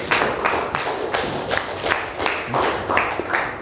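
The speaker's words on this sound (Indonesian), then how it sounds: "Tepuk tangan untuk video motivasi kita hari ini" Classroom applause in a teacher-training role-play lesson: steady, fairly loud clapping from a group of students, rhythmic and continuous with no talk over it.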